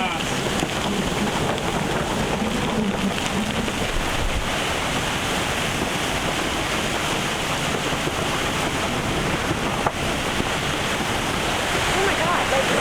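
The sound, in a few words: sudden strong wind gust of nearly 40 knots while sailing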